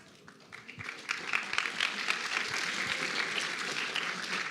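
Audience at an MIT Beaver Works Summer Institute talk break into applause, starting faint and swelling into steady, moderately distant clapping that continues to the end without speech.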